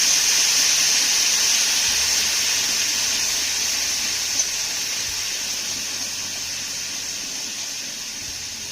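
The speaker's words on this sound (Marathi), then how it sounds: "त्यानंतर हे सर्व साहित्य आपल्याला छान असं परतून घ्यायचं आहे" A traditional mixed-lentil dish being prepared as cinnamon, cloves, black pepper and garlic-green chili paste sauté in a pan, giving a steady, close hiss of sizzling that fades slightly over time, with no talking.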